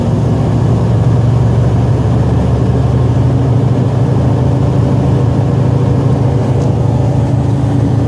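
A parked Freightliner Cascadia truck's diesel engine runs a regeneration cycle, a steady low rumble with a constant drone that holds evenly throughout, loud and close with no talking.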